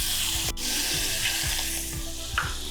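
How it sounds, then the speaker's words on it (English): Butter melting in a hot pot for a rum glaze, crackling and sizzling loudly and steadily at close range, with a sharp clack near the start and a few light spoon knocks, no voices. "So I'm gonna add some butter to my hot pot."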